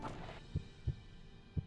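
Audible heartbeat from Belladonna poisoning in a video game: three slow, deep, muffled thumps spaced evenly over a low hum, close and isolated with no talk.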